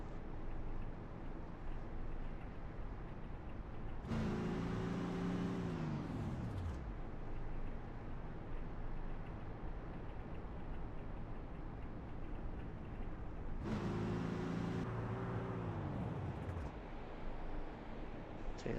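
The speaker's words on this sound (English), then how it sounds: "you can hear him clutching that truck." A race truck in a racing video game at Pocono runs with a steady engine drone, and twice the engine revs rise and fall sharply as the clutch is worked, each burst lasting a couple of seconds.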